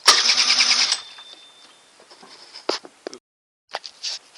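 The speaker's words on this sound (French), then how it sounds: "pour que le correcteur se remette normalement, démarrer à l'électrique" A scooter with a variator is started on its electric starter, giving a loud burst of cranking and engine noise that cuts off, followed by scattered knocks and handling sounds.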